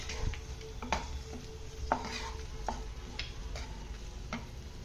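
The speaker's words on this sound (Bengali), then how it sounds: "নেড়ে দিচ্ছি।" Chicken samosa filling being stirred in a pan, soft scraping clicks and taps of a spoon at an uneven rhythm over a faint sizzle, close and quiet.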